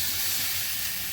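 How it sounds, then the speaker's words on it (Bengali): Steady, close hiss of potatoes sizzling as they are sautéed with spices in a pan for an aloo phulkopi curry, constant and unbroken throughout. "আলু দিয়ে একসঙ্গে কষিয়ে নিচ্ছি।"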